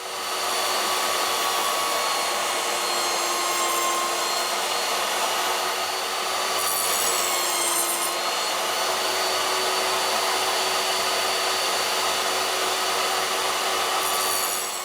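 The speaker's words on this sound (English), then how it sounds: "we've got them all cut out on saw now, all nibbled out" A hand saw nibbling out scrap wood for a rustic cross tea light holder, a steady, loud, continuous rasping that runs without pause for the whole stretch, with no voices over it.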